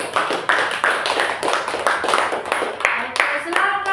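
A classroom group claps for a presenting student group, with steady, moderately loud hand claps continuing throughout and voices mixed in underneath.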